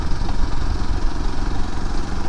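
A motorcycle engine running steadily on a rural village road near a grassland, a loud, continuous low rumble with no pauses or talk over the short stretch.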